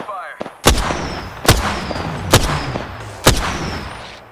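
Loud, close bursts of Spitfire aircraft gunfire in a combat video game: four sharp cannon-like blasts at roughly one-second intervals, each ringing out over a steady engine drone.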